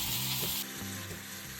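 Pieces of beef roast searing in a hot pan, a faint, even sizzle with a steady hiss and a slight drop partway through, quiet and close with no voices.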